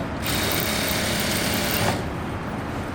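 Sewing machine double-stitching along a pant zip, running loud and close in a steady buzzing whir for about two seconds, then dropping into a quieter hum as it slows.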